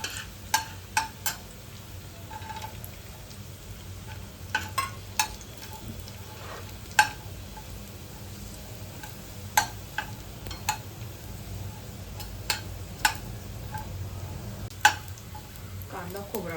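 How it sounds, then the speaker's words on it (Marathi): Grated coconut dry-roasting in a pan for a prawn masala, with a spatula tapping and scraping the pan in sharp, irregular clicks over a faint, steady hiss, continuing alone for a long stretch. "आता आपण खोबरं भाजून घेऊ."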